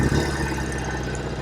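Just after a kick-start, a 1968 Norton Commando 750 Fastback motorcycle engine runs at a steady, close, loud idle with an even low mechanical throb.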